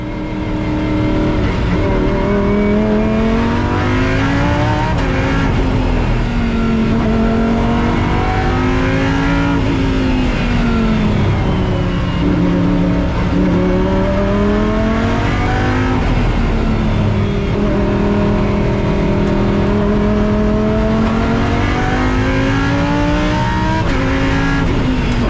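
A Lamborghini Huracan Super Trofeo race car laps the track at Valencia. Its engine note loudly and repeatedly climbs through the revs and drops on upshifts and braking, with a sustained close-up roar the whole way.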